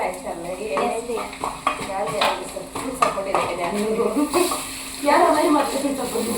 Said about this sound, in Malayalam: ഇത് ഉള്ളി വരട്ടുന്നു